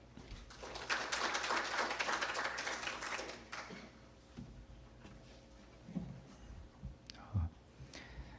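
At a forum, an audience claps to welcome a high-school principal to the stage: a dense but soft burst of applause lasting about three seconds, heard from a distance, then fading into room murmur and shuffling.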